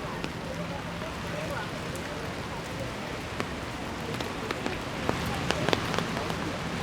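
Steady rain falls on the Champs-Élysées in Paris, a dense, even hiss of drops on pavement close around, with scattered sharper patters and faint background activity throughout.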